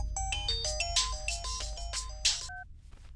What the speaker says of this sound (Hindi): तेरा फोन बज रहा है यार।